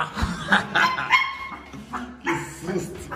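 A small dog barks and yips several times in quick bursts, close by, with people talking over it.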